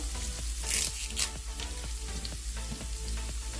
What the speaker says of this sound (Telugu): అది కొద్దిగా వేగాక దీంట్లోనే కరివేపాకు, ఇది కడిగి పెట్టుకున్నాను